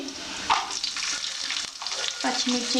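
Cumin, mustard seeds, urad and chana dal, peanuts and green chillies sizzle in hot oil for upma, a continuous crackling fry with occasional stirring scrapes and small pops, and no one speaking.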